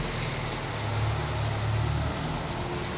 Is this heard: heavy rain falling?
yes